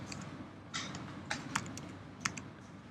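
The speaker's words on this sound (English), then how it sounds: "if you press 7 on your keyboard" Keys clack on a computer keyboard in a few separate sharp taps over a steady hiss, close and moderately quiet, with no speech over them.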